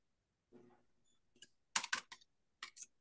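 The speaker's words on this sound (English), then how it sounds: "I heard aggressive typing at the end" Hard, fast keystrokes on a computer keyboard, clustered in a few sharp bursts with short gaps, preceded by a faint murmur.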